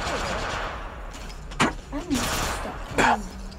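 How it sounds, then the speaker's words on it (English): Apex Legends gunfire rings out as a few sharp, loud bursts against steady background game noise, with voices talking around the shots. "wait, somebody's shooting me"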